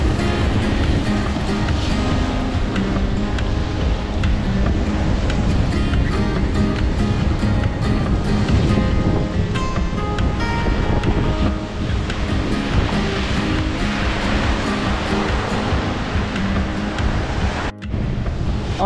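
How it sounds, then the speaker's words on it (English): Rough Gulf of Mexico surf on a Florida state park beach, a loud continuous roar of breaking waves with heavy wind buffeting the microphone, and no voices throughout. "come through the Gulf of Mexico, kicking up the surf"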